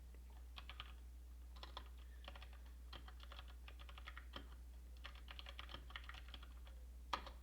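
A command is typed on a computer keyboard in bursts of quick close key clicks with short pauses, faint over a low steady electrical hum.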